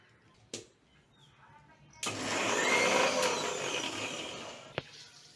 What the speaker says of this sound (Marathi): हा पल आणि पुदिना आपल्याला फिरवून घ्यायचा आहे मिक्सरला